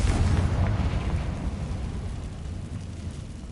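A Confringo blasting spell goes off in Hogwarts Legacy, a loud deep boom with a rumbling tail that slowly fades over a few seconds, with no talking.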